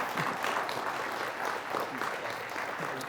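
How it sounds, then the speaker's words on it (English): Audience applause following a high school quiz bowl match, steady clapping from a crowd sustained throughout at moderate level, with no voices over it. "It might be a good time to clap"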